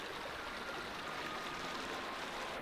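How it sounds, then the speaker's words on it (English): Water flows steadily over the travertine terraces of Pamukkale, a soft continuous rushing and trickling heard alone at low level. "This flowing water eventually goes down there."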